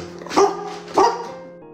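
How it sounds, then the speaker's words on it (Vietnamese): A pet dog, startled by a lit match during a magic trick, lets out two sharp, close barks about half a second apart, then falls quiet. "mồm liên tục sủa như đang tra hỏi que diêm vừa nãy"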